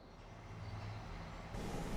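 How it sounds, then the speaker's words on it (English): A truck arrives outside in Farming Simulator 25: a steady, low engine rumble with a faint hiss, moderately quiet, with no talking. "I think I hear a truck outside, which means it's here"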